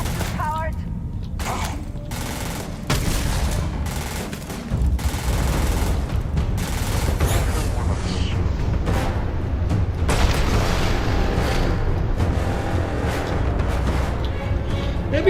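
Shooting and blasts from Starfield come as scattered, punchy bangs early on, then settle into a dense, rumbling wash of combat noise, with talk running over it.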